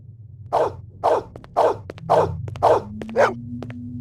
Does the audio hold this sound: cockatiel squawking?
no